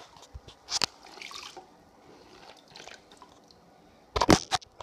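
A grout sponge is wrung out over a bucket, giving two bursts of splashing, dripping water separated by quieter trickles and faint squishing, close by.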